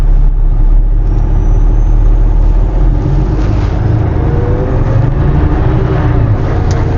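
Peterbilt 567 truck pulling away from a start in second gear and running up through the gears, a loud, close, steady low diesel engine drone heard from inside the cab.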